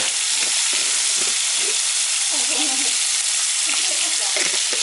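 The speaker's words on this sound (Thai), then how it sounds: "คั่วหมูเนี่ย ทอดหมูให้มันแบบหอมซะก่อนไม่ต้องรีบร้อนครับ" Pork belly fries in a pan for a stir-fry with sweet peppers, giving a loud, steady, close sizzle and spatter that never lets up, with soft stirring movements underneath.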